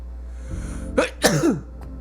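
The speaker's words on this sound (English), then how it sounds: "That was a good sneeze." A single sneeze, sharp and close, with a short intake before it and a faint trailing sound after, over a steady low background hum.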